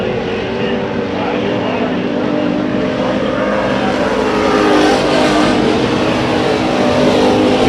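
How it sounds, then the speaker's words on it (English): Race car engines scream at high revs during a heat race at Bakersfield Speedway, a loud, sustained roar with the pitch slowly rising as cars run the high side. "Raymond Nolan has that number 5 machine running up on that high side. That car's screaming."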